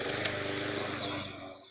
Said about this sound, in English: I'm so sorry about the lawnmower.